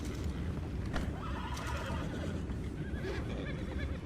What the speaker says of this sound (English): Here's the horses.